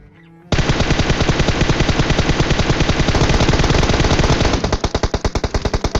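Sustained automatic gunfire from a PUBG battle, a loud continuous burst of rapid shots that breaks into distinct individual bangs near the end, with no talking.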